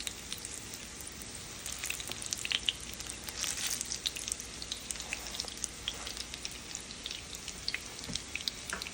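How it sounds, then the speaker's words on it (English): Patties with carrots and onions fry on a stove with soft, continuous sizzling and scattered small pops and crackles. The sound stays fairly faint and close throughout. "You want to make sure they're cooking thoroughly on both sides"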